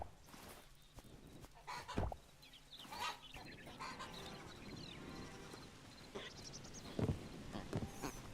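Chickens in the video game Hytale cluck and squawk in short bursts, several birds close by, with sharp louder calls standing out over a busy, continuous background of game sounds.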